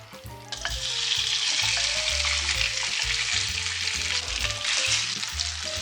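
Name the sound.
chicken frying in oil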